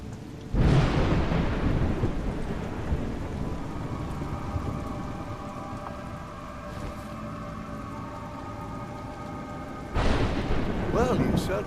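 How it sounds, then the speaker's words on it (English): Thunder and steady rain in the game A Juggler's Tale: a loud rumbling crash opens, rain hisses on beneath for several seconds, then a second thunderclap bursts near the end. "It's raining."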